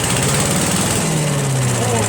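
A Little Wonder leaf blower with a Briggs 319cc 8HP engine runs loud and steady with a throbbing drone, its pitch dipping slightly, while a voice talks over it.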